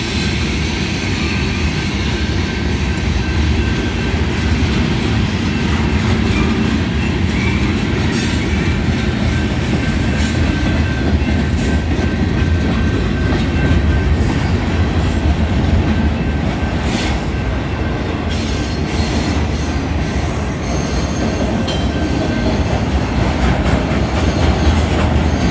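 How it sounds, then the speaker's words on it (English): Union Pacific 8644, an inbound manifest freight train with auto rack and gondola cars, rolls past steadily at close range in Mesa, its wheels squealing in thin high streaks over a continuous loud rumble of cars on rail. "I guess it's been a while since I've seen a full auto rack train"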